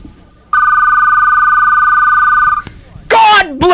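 An old-fashioned telephone bell rings continuously for about two seconds, loud and close, played during a radio show, then stops as a voice starts talking.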